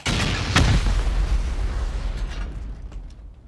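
Rocket explosions during a base raid in a survival video game, a loud booming burst near the start with a sharp blast around half a second in, then rumbling debris and smaller pops fading over several seconds.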